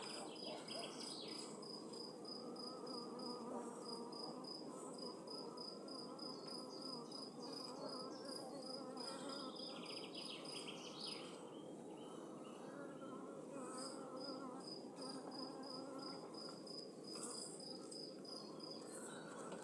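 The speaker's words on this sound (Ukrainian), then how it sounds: "Ця бджолина сім'я, бджолина родина." Swarming honeybees make a dense, continuous buzzing hum, joined by a high, pulsing insect chirp that comes and goes, all steady and moderately faint outdoors.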